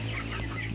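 Chickens on a small farm clucking steadily and close by, a continuous low flock murmur with no talking.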